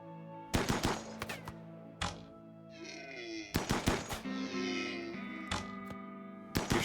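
Colonists in RimWorld firing guns, sharp separate shots and short bursts arriving in clusters with gaps between, set against a quiet game background with no talk.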